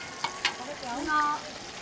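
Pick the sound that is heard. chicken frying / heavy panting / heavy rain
chicken frying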